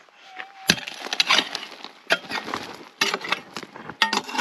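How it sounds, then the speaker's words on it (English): Digging into a stream bank brings repeated scraping and crunching strikes of a tool into gritty soil and rock, irregular and close, with sharp hits among the steady scratching. "We're gonna dig it up and see what we got."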